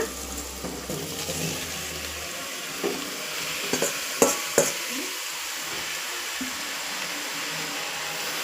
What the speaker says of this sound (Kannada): ಹಾಕ್ಕೊಂಡು ಇದನ್ನು ಚೆನ್ನಾಗಿ ಎಣ್ಣೆನಲ್ಲೇ ಇದನ್ನು ಚೆನ್ನಾಗಿ ಹುರ್ಕೊಳ್ಬೇಕು